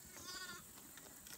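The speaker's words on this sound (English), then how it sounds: "Come on, sheep." A single short, wavering bleat rises faintly over quiet outdoor background noise, distant and brief.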